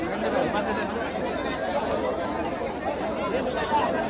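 Steady crowd chatter fills the grounds of a bullock cart race at Kongav, Mumbai, a dense, continuous babble of many voices with no single sound standing out.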